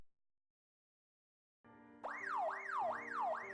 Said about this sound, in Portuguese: Muitas sirenes de polícia soavam.